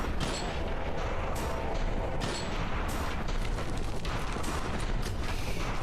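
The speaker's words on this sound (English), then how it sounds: "Hunting rifle." Hunting rifle gunshots in the Saint of Chains video game, a dense continuous barrage of loud blasts and booms with no clear gaps between them.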